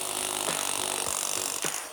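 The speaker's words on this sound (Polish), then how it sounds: "Jest to tylko młot udarowy." A Parkside impact hammer runs continuously at close range, a steady dense mechanical rattle and drone with a few brief pitch dips near the end.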